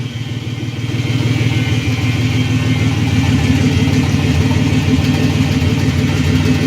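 A turbocharged 4.3 engine in an S10 pickup runs with an open 2.5-inch downpipe and no silicone coupler, giving a loud, steady, throbbing rumble that stays close and continuous, with no talking.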